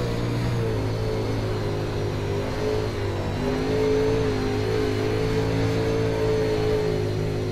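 UMP modified race car engine on the Eldora dirt track in iRacing, a loud sustained engine drone with its pitch shifting gently as the throttle rises and eases, no voices.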